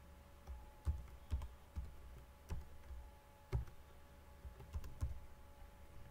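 A password is typed on a computer keyboard, with about a dozen soft, irregular key clicks in quiet surroundings and no speech.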